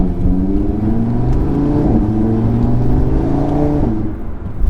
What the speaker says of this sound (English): you can barely hear the exhaust